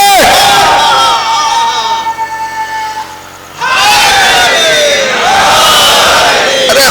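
Large crowd at a Shia religious gathering roaring a slogan response in unison, loud massed shouting that dips briefly midway and then surges again to full strength.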